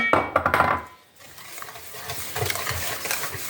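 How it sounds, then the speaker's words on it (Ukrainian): A whisk beats eggs and sugar in a bowl for waffle batter, starting with a short clattering burst, then a brief lull, then steady scraping strokes against the bowl. "Збиваємо, додаючи туди цукор, збиваємо."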